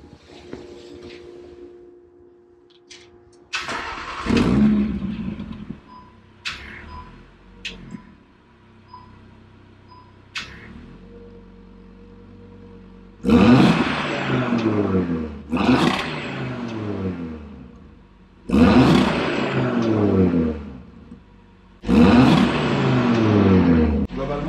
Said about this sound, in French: je vais tirer des tout petits rupteurs à l'arrière, vous allez entendre un petit peu ce bruit